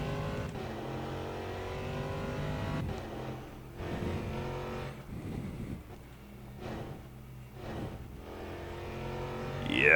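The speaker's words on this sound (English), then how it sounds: "Listen to that engine. I might have it turned down too low, but that engine just roars." A race car engine roars in the rFactor 2 sim from its Endurance Pack, holding a sustained buzzing note that climbs and drops through gear changes, fairly quiet and close.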